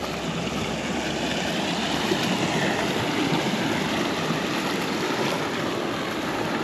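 Steady rushing water of a small river at a hiking crossing in the Scottish hills, a continuous broadband wash, loud and unbroken with no voices.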